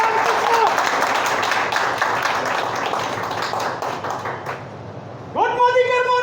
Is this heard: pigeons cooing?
no